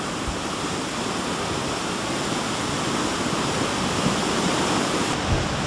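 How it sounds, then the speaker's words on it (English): Floodwater from the Ruidoso River in July 2008 rushes under a bridge as a loud, steady roar of churning water that stays constant from start to finish, with no voices. "here we have the Ruidoso River coming down our road"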